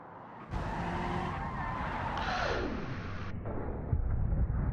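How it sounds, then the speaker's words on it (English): Soliad Spica Foxbody Mustang in BeamNG.Drive skidding, with a loud tire squeal and an engine note that sweeps down in pitch over steady road noise, ending in a rougher broadband burst as it crashes. "Ooh, that was a weird crash."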